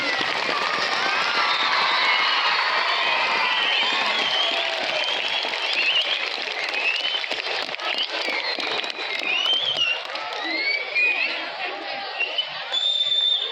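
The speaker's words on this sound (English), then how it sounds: "Clap loudly." A large crowd of school students claps and cheers continuously at an outdoor school sports event, a dense, loud wash of applause with shrill shouts and whistles throughout.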